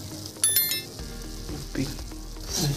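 Center Fresh chewing gum dropped into hot cooking oil, giving a steady close sizzle and frying crackle with a few sharp bright clinks near the start and a swell of bubbling toward the end.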